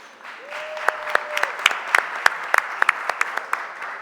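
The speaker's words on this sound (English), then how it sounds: "Give them a round of applause." Applause in a Philadelphia City Council chamber during a stated meeting, starting thinly and building into steady clapping, with distinct individual claps standing out near the front of the room.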